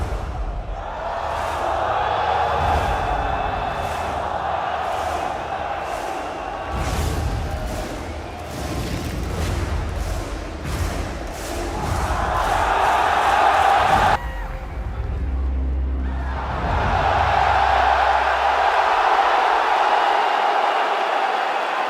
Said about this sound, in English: The crowd goes ballistic when the little 6 appears